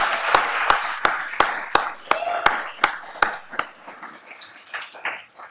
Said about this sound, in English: And a round of applause to Jack Beermann, our new Philip S. Beck Professor of Law.